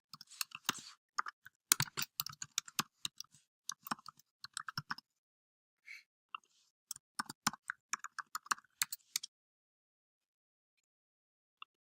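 Quiet, close keystrokes on a computer keyboard tap out a password in irregular bursts of clicks, with short pauses between them, before falling silent near the end.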